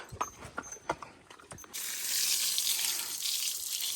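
A pony stands under a water hose at its first shower of the year. Water sprays steadily and close by after a few hoof clops.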